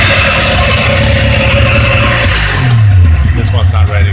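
A rebuilt small engine with a newly replaced piston idles high, giving a loud, steady, close mechanical drone with a slight rise in pitch near the end, alongside talking.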